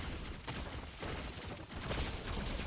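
Fortnite shotgun blasts ring out as a few sharp, loud shots over dense in-game combat noise, with no talking over them.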